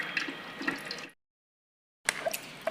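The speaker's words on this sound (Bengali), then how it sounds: "এটার মধ্যে আমি এখন ঢেলে দিচ্ছি, যাতে কোনো গুটি না থাকে।" Carrot pudding mixture poured and pressed through a kitchen strainer gives a soft wet trickling and dripping, broken by a full second of silence before the liquid sound resumes, fairly faint and close.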